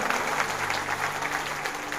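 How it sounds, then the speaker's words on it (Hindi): Loud, steady applause from a large crowd at a political workers' meeting in Ratlam, sustained throughout with no voice over it. "एक बार जोरदार तालियां हो जाए"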